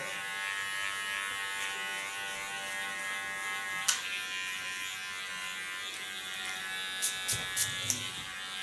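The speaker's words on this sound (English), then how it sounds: "Use my clipper as a comb, this by putting the blade to the back." An electric hair clipper buzzes steadily and close by while trimming the side and nape of the head for an asymmetric short cut, with a few light clicks near the end.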